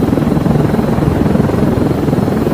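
Helicopter in the video game Zero Hour Assault, a loud, steady rotor drone that chops evenly and continuously throughout with no voices.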